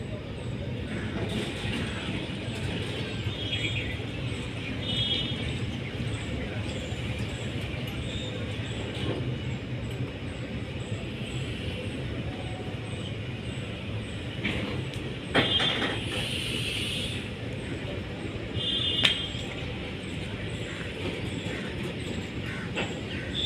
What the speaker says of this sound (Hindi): ये मालगाड़ी दिल्ली के पालम रेलवे स्टेशन का है।